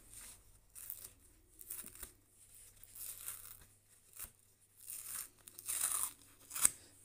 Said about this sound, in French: Et il me suffit plus qu'à enlever le papier bien absorbé d'eau.